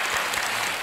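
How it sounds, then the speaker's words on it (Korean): A brief moment of church congregation applause, a dense, even rush of many people clapping together, heard only for an instant. "우리 하나님께 한번 박수로"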